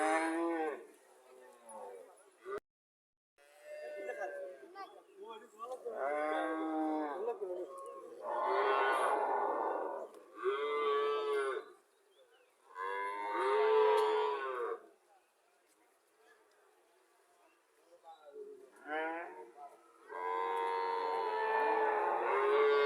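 Dairy cow, a fifteen-kilogram milker, lowing repeatedly at a Comilla cattle market, several long harmonic moos with short gaps between them, close and fairly loud.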